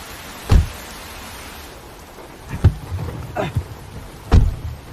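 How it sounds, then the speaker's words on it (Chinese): Heavy rain falling outside a car makes a steady broadband hiss, broken by a few dull, close thuds like a car door shutting. "下这么大雨不好叫车"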